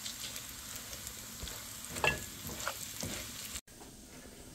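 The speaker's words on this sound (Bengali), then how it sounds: "এখন বাগারটা দিয়ে দিলাম।" A hot tempering (baghar) is poured into khichuri and sizzles softly, a fizzing crackle with stirring scrapes that swell briefly midway, then an abrupt cut before the quiet sizzle resumes.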